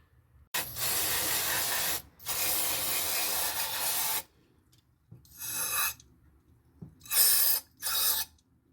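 Cleaner sprayed from an aerosol can onto the fuel sediment bowl of a 1961 Vauxhall Victor Super, heard as two long loud hissing blasts followed by three shorter spurts, close up with brief pauses between.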